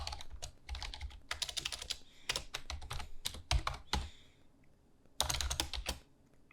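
Rapid clattering keystrokes on a computer keyboard, heard close up in quick bursts separated by short pauses, with no talking.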